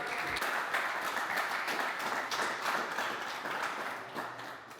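An audience at a professional MMA event applauds steadily for the sponsor Shiftech, the clapping moderately loud and continuous before easing slightly toward the end.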